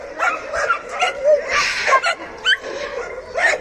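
Several dogs at an animal shelter bark, yip and whimper over one another in a close, continuous chorus of short overlapping cries.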